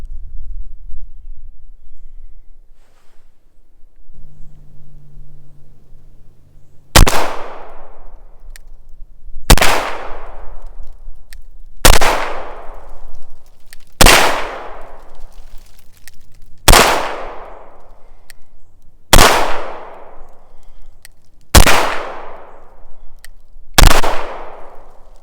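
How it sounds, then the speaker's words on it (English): Nine sharp Beretta M9A3 pistol shots fired at an outdoor range, spaced about two to three seconds apart, each loud crack followed by a short ringing decay over light background noise. "I'm going to be firing 10 shots from this distance."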